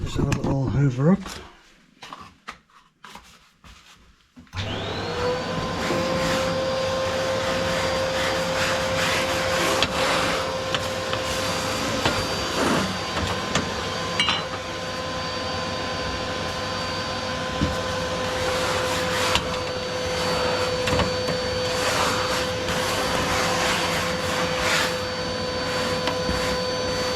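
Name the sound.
vacuum cleaner hoovering up ash from a Rayburn Rembrandt stove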